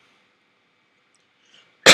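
A single sharp cough bursts out at the very end after near silence, loud and close.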